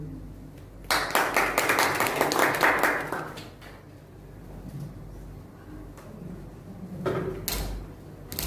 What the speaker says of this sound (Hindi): हम सब तालियों के साथ उनका स्वागत करेंगे।